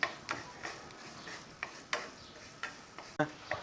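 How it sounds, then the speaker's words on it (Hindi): Spices frying in a pan for potato chutney, a soft background sizzle punctuated by regular light spatula taps and scrapes about every half second to second, fairly quiet and close with no speech. "ये आलू की चटनी के लिए हम सारे मसाले एक साथ डालेंगे। थोड़ा सा फ्राई करेंगे।"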